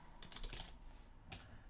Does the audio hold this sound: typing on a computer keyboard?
yes